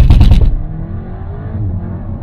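A VW Golf 8 R engine accelerating hard: a loud, rough burst for the first half second, then a steady low rumbling drone that carries on at a lower level.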